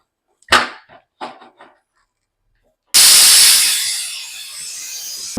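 A pressure cooker cooking tomato rice on a gas stove lets out a sudden loud, sharp hissing whistle that starts midway and slowly fades, after a few short clinks and knocks in near silence.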